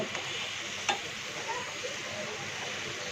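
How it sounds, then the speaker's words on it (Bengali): Prawn malai curry masala stir-fried in a pan, a steady soft sizzle with faint occasional scrapes of stirring, close and continuous, with no talking. "ভালো করে কষাতে হবে,"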